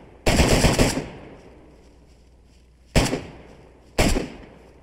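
Gunfire in the DayZ video game: a loud rapid burst of shots, then two more single cracks a second apart, each leaving a lingering tail of echo, with no talk.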